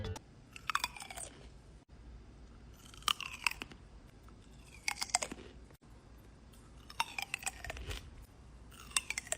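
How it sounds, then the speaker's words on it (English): Crunchy grapes being chewed up close, with bursts of wet, crisp crunching repeating every couple of seconds and quiet gaps between. "I do prefer crunchy grapes, to be fair."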